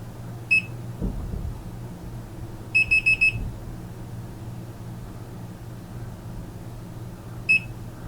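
Short electronic beeps from a BMW F series instrument cluster on the bench, a single chirp, then a quick burst of four, then one more, steady tones over a low hum and background noise.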